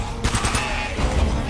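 Rapid bursts of gunfire aimed at zombies in the video game Uncharted, loud and close: a dense volley that fades out, then a few more shots before the clip ends.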